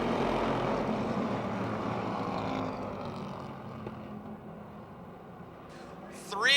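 A pack of race cars at a speedway feature event roars in a dense, steady engine drone that slowly fades as the field moves away, under a loudspeaker announcer's voice.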